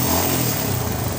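Honda Grand motorcycle engine, just repaired after a starter failure, running steadily up close at a loud, even level for a moment with no speech.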